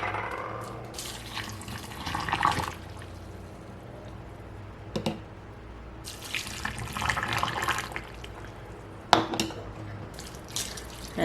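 Water and vinegar brine poured into jars of pickled cauliflower and carrots, with intermittent splashing and trickling bursts, soft clinks and drips between pours, close by at moderate to low volume.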